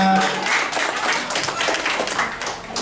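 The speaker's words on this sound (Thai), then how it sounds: "ขอเสียงปรบมือของนักเรียนนะครับ" Students clap and applaud at a woodball tournament event in Chiang Mai, a dense crowd of rapid overlapping hand claps that stays steady and fairly loud through the whole stretch, with no voices breaking through.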